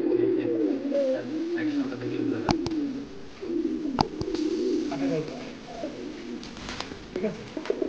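White Bombai pigeons coo softly and repeatedly in low throaty rolls, with a few sharp clicks and handling knocks in a quiet setting.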